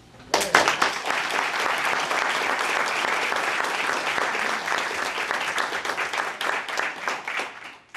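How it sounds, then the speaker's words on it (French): An audience claps steadily and warmly for about seven seconds at an evening ceremony honouring home care aides. The applause starts abruptly and fades slightly at the end. "Vous méritez une avalanche d'applaudissements."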